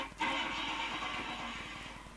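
In the CD-i video game The Riddle of the Maze, a car engine starts abruptly and then revs steadily, a sustained mechanical roar with a rough low pulse that carries on for a couple of seconds.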